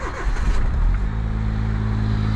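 A low-mileage Suzuki kei car engine cranks and catches, then settles into a steady, close idle hum after about a second.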